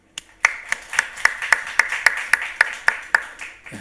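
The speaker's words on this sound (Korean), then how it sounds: "우리 하나님께 박수하겠습니다." A Korean church congregation at a Sunday worship service claps in a slow, steady rhythm after the sermon, about a dozen distinct claps in an indoor hall, fairly close and clear.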